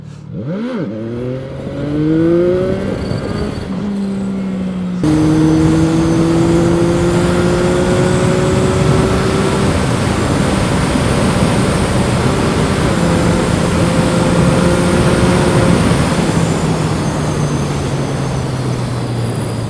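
A CFMOTO 675NK naked motorcycle accelerates hard, its engine revving up through rising pitches with a brief shift, then holding a loud, steady high drone under heavy wind rush.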